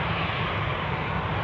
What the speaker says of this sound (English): So that is our third from last plane of the day